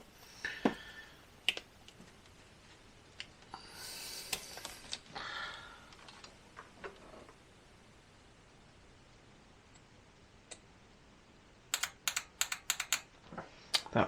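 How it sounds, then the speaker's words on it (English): Fuel injectors from a Jaguar V12 engine being bench-tested with 12 volts, giving scattered sharp clicks, with a tight cluster of rapid clicks toward the end and a brief hiss of spray in between; close and fairly quiet, with no talking. "It's clicking, and I actually heard some fuel spray."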